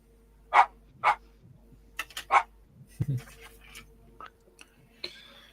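A dog barks several times indoors, sharp separate barks spaced about half a second apart, then quieter knocks and faint sounds, with brief talk from people in the room.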